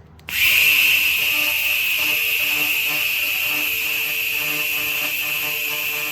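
A handheld 1,500-watt laser cleaning machine fires with a loud, steady high-pitched whine that starts abruptly and holds for several seconds, with a faint buzzing hum underneath.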